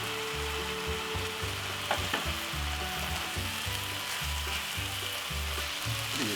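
Seasoned ground meat with all-purpose seasoning and coarse pepper sizzles steadily in a pan for spaghetti Bolognese, with a spoon scraping and stirring in a regular rhythm, close and fairly quiet.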